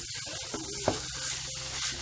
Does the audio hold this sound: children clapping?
no